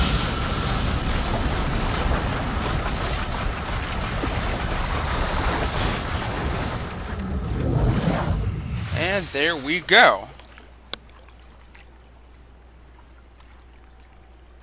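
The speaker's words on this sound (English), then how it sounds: "turn this wheel to drain the water" Water drains from a pressure cooker on Crater Island in the video game Riven, a rushing, sloshing wash that swells and gurgles before cutting off, with someone speaking briefly over the end.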